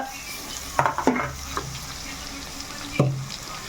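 Vegetables for a vegetable pulao are stirred and scraped around a frying pan over a steady low sizzle, with a few distinct clatters of the spoon against the pan spaced through the stirring.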